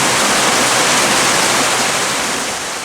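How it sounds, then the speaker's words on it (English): Steady, dense roar of heavy rain pouring down, a continuous broadband hiss with no breaks, loud and close. "it is coming down. You can tell that it's raining kind of sideways there."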